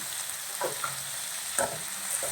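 Onions sautéing in a pan give a steady sizzle throughout, with a few brief stirring scrapes and clinks standing out, fairly close and without any talk.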